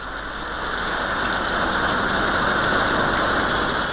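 Heavy, non-stop rain during the Kerala floods pours in a dense, steady hiss, loud and unbroken throughout, with no voices.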